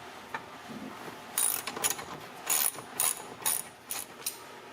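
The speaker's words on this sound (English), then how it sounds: "I'm just tightening them up." A ratchet wrench tightening swivel-seat bolts inside a RAM ProMaster van, giving several short bursts of quick metallic clicking separated by brief pauses, close and clear with no talking.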